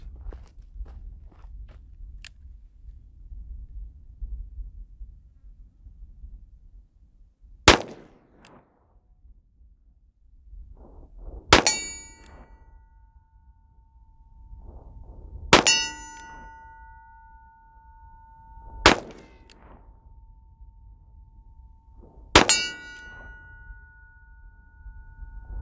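A Taurus Model 65 revolver chambered in .357 Magnum/.38 Special fires five sharp, widely spaced shots, each followed by a bright metallic ring, over a quiet outdoor background.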